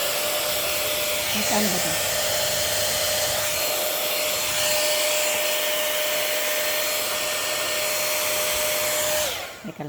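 A Whipl Airstyler multistyler hair dryer blows continuously with a loud, steady whooshing roar and a thin whine, cutting off abruptly near the end, while someone speaks briefly over it.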